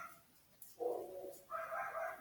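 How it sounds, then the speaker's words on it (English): Dogs bark faintly in the distance, a few short muffled barks in two bursts with quiet gaps between. "They said these dogs keep barking at nothing."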